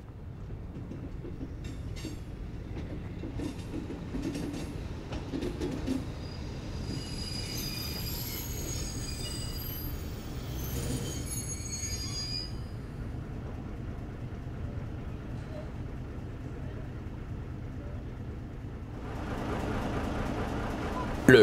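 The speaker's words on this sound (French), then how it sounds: "L'un de ces autorails va d'ailleurs entrer en gare d'ici quelques instants." A Chemin de fer du Haut-Forez railcar rolls into a station, a steady rumbling train with clattering wheels and high squeals of braking, growing a little louder toward the end.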